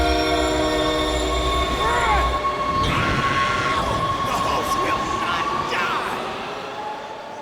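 A subway train rumbles through the New York subway in the video game The Darkness, a loud, steady low roar with a tonal horn-like drone, faint voices over it, and the noise slowly fading toward the end.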